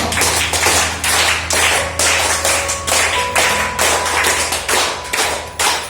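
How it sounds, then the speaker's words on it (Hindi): A group claps hands together in a steady, loud burst lasting several seconds, with scattered taps and a faint tone in the background. "ताली बजाओ।"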